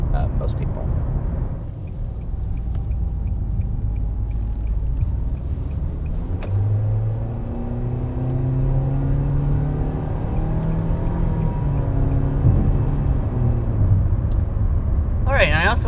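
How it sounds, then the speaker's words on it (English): A 2022 Nissan Kicks crossover accelerating through its continuously variable transmission, giving a steady low drone whose pitch rises smoothly and gradually rather than stepping through gears, recorded from inside the car with a voice talking over it for much of the time. "That is your continuously variable transmission at work."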